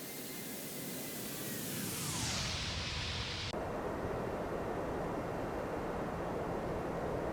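A ToLiss A330neo airliner passes by in X-Plane 12, its broad engine roar swelling then sweeping down in pitch before cutting to a steadier cabin-like rumble, loud and continuous with no talk.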